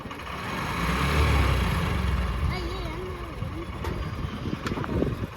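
A motorcycle-powered bike trolley's engine runs steadily at close range, a low continuous rumble with a rough, slightly uneven texture, while people talk over it.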